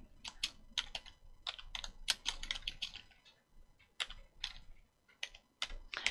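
Quick, uneven bursts of key clicks on a computer keyboard, close and crisp, with short pauses between runs of typing.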